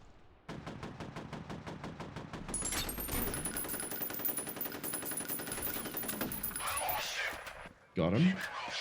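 Rapid automatic gunfire pouring rounds into a heavy enemy in the shooter F.E.A.R. Extraction Point, a fast rattling burst that swells louder midway, runs several seconds, then cuts off, with someone talking over parts of it.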